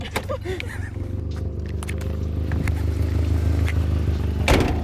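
A Nissan 240SX with no hood and no front bumper backs up, its engine a loud, rough, steady rumble close by, with clicks and knocks over the top and people talking.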